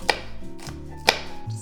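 A knife slices a red onion into thin slices on a board, two sharp close chops about a second apart with faint handling sounds between them.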